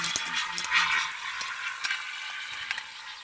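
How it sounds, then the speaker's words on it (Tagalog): Chicken adobo sizzles in a frying pan while it is stirred, with scraping and clinking strokes over a bright, close frying hiss. "hinahalo-halo ko na siya"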